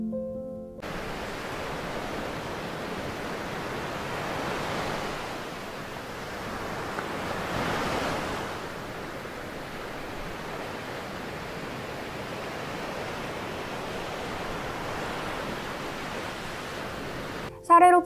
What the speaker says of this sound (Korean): 30초 정도 파도 소리를 들려드릴게요